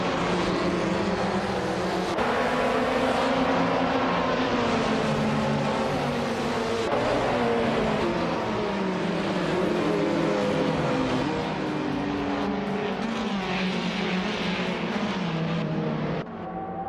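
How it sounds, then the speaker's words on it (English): A 2016 Maserati Gran Turismo MC GT4 race car engine in a racing video game roars loud and close, holding a continuous high-revving drone with shifts and pitch sweeps alongside other cars. "Maya starting at the front in a 2016 Maserati Gran Turismo MC, ready to show these bots how it's done"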